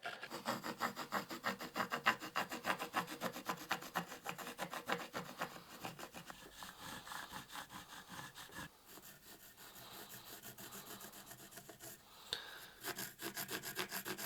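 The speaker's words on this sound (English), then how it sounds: "we're going to start by using this axe as a template to trace the outlines on this piece of" Pencil or marker scratching along an ash wood board while tracing an axe handle outline, a close, dry rubbing and scraping in quick strokes that pause briefly and resume, with no talk.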